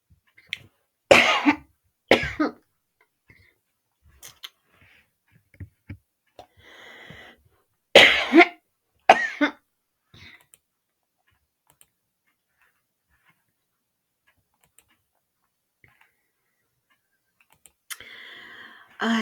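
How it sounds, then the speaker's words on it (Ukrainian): Two short bursts of allergy coughing, each a pair of harsh coughs, separated by quiet stretches with faint clicks and small movement noises. "вибачайте, прервалась, тому що кашель алергія"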